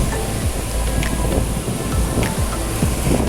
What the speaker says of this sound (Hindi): भी बहुत ज़्यादा लहरें हैं यहाँ पे।